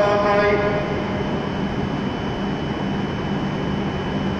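A steady, loud rumble of a W7 series Hokuriku Shinkansen train pulling away from platform 14 at Kanazawa Station, with a station announcement voice heard over the noise at the start.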